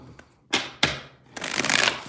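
A tarot deck is shuffled by hand: two sharp riffle bursts, then a longer rippling shuffle, close and loud with no talk over it.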